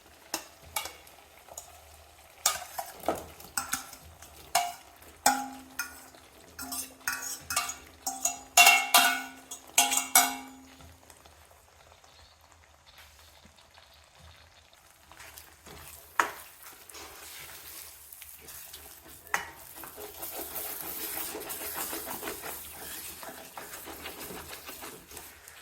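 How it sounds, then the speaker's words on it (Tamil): Chicken pieces go into hot oil in a pan for a restaurant-style Changezi curry, with sharp clanks of a spoon against metal, then a building, steady sizzle as it fries. "இப்போ வந்து நம்ம சிக்கன் போட்டுக்கலாம்."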